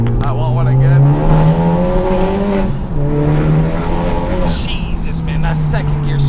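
A Honda Type R accelerates hard in second gear, its engine note climbing steadily and loud from inside the car during a street car meet ride-along, with a brief dip around a shift and voices talking over it.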